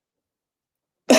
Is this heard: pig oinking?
no